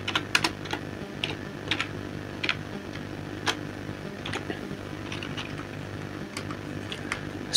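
Fingers tap a computer keyboard in scattered irregular clicks, some quick runs and some isolated keystrokes, close over a steady low hum, with no voices.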